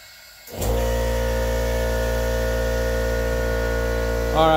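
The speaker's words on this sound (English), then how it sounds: "all right, the compressor is on" Air compressor running during a cylinder leakdown test on a Honda Prelude 2.2L engine, starting up abruptly and settling into a loud, steady humming drone with a slight rise just before the end.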